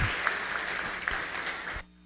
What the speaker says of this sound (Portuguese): que eu peço um aplauso aqui na Faculdade de Arquitetura